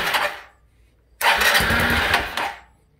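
The small engine of a 1986 Honda Elite 150 scooter cranks over in two bursts, a short one then a longer whirring churn of about a second, close by, with no one talking.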